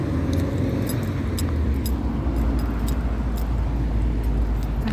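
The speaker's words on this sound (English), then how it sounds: "Got a little bit of traffic going on around here." Steady road traffic passes close by on a city street, a continuous loud rumble of vehicles with faint light jingling on top and no talking.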